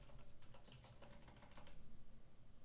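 Quick, irregular keystrokes on a computer keyboard clatter steadily and close up while someone codes, with a brief lull before the typing resumes.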